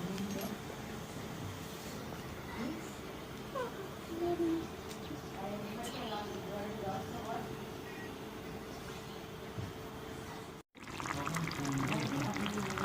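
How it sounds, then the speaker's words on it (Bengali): Water is poured into a pot of khichuri cooking in a small kitchen. A soft, steady stream runs at moderate level for several seconds under faint background noise, with a brief break near the end. "এবার আমি পানি দিয়ে দেব।"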